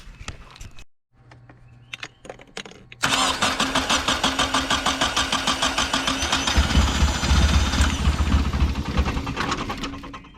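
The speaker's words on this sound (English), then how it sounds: "let's go ahead and crank her on over." A Nissan 240SX with no fuel pump installed is cranked, first with a few clicks and short stutters, then a long rapid rhythmic cranking that builds into rough, loud running nearby, with no voices.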